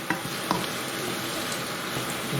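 Spices and ingredients for chicken rogan josh sizzle steadily in a hot pan while being stirred, with a few soft scrapes and clinks of the utensil against the pan, close and without talk.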